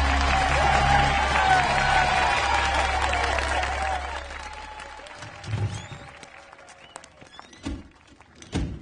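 In a film drama scene, an audience applauds loudly after a music performance. The clapping fades out after about four seconds, giving way to scattered thuds and footsteps in a quieter room.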